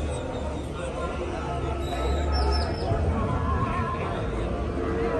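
A young mule whinnies near its mother on a cattle ranch, a faint, high call partly buried under steady wind and outdoor rumble.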